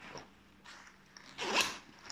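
Zipper on a Mystery Ranch 3 Day Assault Pack CL backpack being pulled open on the back compartment: a couple of close, raspy zipping strokes, the last one longest and loudest.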